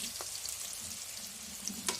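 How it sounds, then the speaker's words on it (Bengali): Pointed gourd (potol) frying in hot oil gives a soft, steady sizzle with a couple of faint stirring clinks, quiet and close, with no one talking. "দেখো পটলটা ভাজা হয়ে গেছে"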